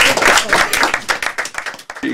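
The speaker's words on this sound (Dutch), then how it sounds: "mag ik een groot applaus voor Arie van der Rent." An audience at an open-mic stage night gives a burst of loud, close clapping that thins into scattered individual claps.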